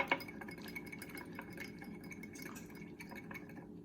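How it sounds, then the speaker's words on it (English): Minced garlic mixture being whisked in a bowl, a steady run of soft scraping, stirring and light clinks of utensil against the bowl, close by and continuous with no talk. "So I'm going to whisk all that together."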